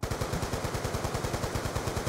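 Rapid automatic gunfire in Black Ops 2 Zombies on the Buried map rattles steadily and loudly in an even, fast rhythm throughout, with no talking over it.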